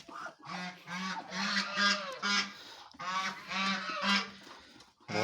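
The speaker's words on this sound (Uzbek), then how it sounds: "G'ozlar bilan indutkalar urushyapti." Geese honking in repeated loud bursts while fighting with turkeys on a farm, a raucous cluster of overlapping calls with short pauses between, close and continuous with no speech.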